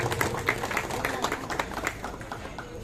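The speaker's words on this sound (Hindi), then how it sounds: "जोरदार तालियों से इस्तकबाल फरमाएं।" Audience clapping at a felicitation program, a loose, uneven patter of hands that thins out toward the end, with voices murmuring beneath it.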